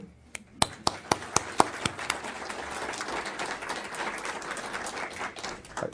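An audience at a university grant announcement event breaks into applause, opening with a few sharp, separate claps that swell into a light, scattered round of clapping heard at moderate distance.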